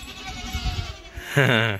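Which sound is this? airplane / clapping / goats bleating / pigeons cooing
goats bleating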